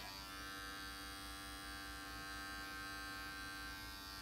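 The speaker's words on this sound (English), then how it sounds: "The advantage of the adjustable blade clipper is that you can get a lot of different lengths out of it." An adjustable blade electric hair clipper runs continuously at close range, giving a steady, even motor buzz with a strong humming drone and no pauses or voices.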